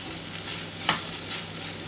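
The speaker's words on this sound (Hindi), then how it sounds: "इसको यहाँ पर जो है 1 मिनट के लिए मीडियम फ्लेम पर ज़रा थोड़ा सा प्याज के साथ मिक्स कर लेते हैं।" An onion mixture frying on a medium flame for a chicken sandwich gives a soft, steady sizzle, with one quick scraping stir in the middle. No one speaks.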